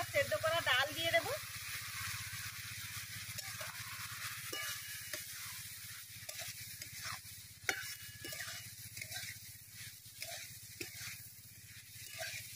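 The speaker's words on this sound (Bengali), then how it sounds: "ডাল দিয়ে কষিয়ে নিয়েছি।" Boiled dal sautéing in fried spices, a quiet steady sizzle under a low hum with frequent scraping stirs of a spoon against the pan, fairly close and soft.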